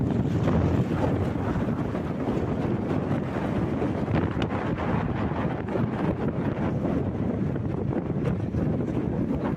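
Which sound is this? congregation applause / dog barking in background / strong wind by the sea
strong wind by the sea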